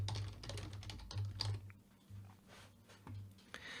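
Quick, quiet keystrokes on a computer keyboard, close up and uneven in rhythm, with short pauses between bursts and no talking.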